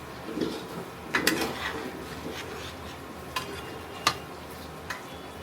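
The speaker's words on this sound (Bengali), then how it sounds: "একটু নেড়ে ছেড়ে দিব যাতে গ্রেভিটা ডিমের ভিতরে পর্যন্ত চলে যায়" Egg korma gravy is stirred in a pot at an outdoor office picnic, with a few scattered scrapes and clinks of the spoon against the pot over a low background sizzle.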